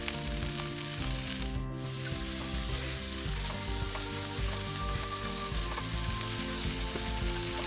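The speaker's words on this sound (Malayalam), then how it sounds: "ഇതിലേക്ക് നേരത്തെ പൊടിയായി അരിഞ്ഞ വെച്ച സവാള ചേർത്ത് നന്നായി ഒന്ന് വഴറ്റി കൊടുക്കാം" Finely chopped onion sautéing in a pan while squid roast is being made, with a loud, steady sizzle and crackle throughout and no talking.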